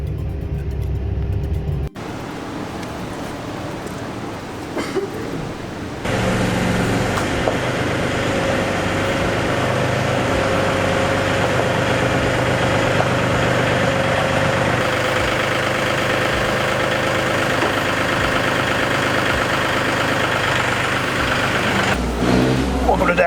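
An Acura TSX with a K24A2 engine starts up after sitting a while and settles into a steady close-up idle, a constant mid-low hum that follows a few seconds of quiet handling noise.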